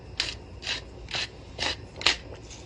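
Pepper grinder cranked over a big pot of ratatouille, giving five or six separate rasping, ratcheting grinds in a steady rhythm, close and fairly quiet, with a low simmering burble underneath.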